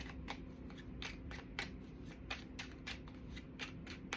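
Tarot cards being shuffled by hand, a quiet run of crisp, regular riffling snaps and flutters repeating about every half second, close and alone with no talk.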